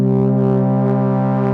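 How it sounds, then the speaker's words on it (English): A loud, dense synthesizer pad layer from the Ambient Ø plugin with reverb and shimmer switched off and the sound panned hard left, holding a rich sustained chord alone. "And so now our pad layer sounds like this"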